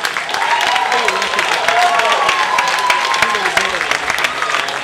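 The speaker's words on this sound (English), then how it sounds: "Let's give Pete one more round of applause." Audience applause for performer Pete Goldfinger at a live show, a steady wash of clapping throughout with voices and tonal sounds mixed in.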